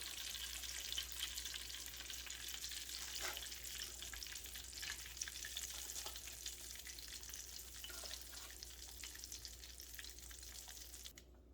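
Green tomato slices frying in a pan, a faint continuous sizzle and crackle of hot oil with a steady low hum beneath, no voices.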